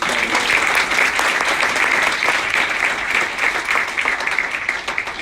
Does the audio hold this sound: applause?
yes